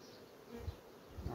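Honeybees buzzing around newly formed queen cell cups during queen rearing, a continuous low droning hum with a couple of louder passes close by.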